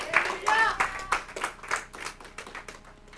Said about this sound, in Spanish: denle un aplauso fuerte al Señor en esta hora